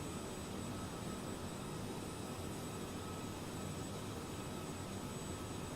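Airbus A330 jet engines in Microsoft Flight Simulator, a constant broadband roaring hum with no variation, steady and unbroken, with no voices.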